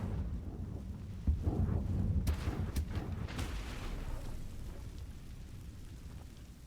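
Hogwarts Legacy's Incendio fire spell cast with a deep whooshing roar and a sharp crackling burst, then a low rumble that slowly fades, moderately quiet.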